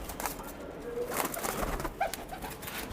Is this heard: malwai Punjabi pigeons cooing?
yes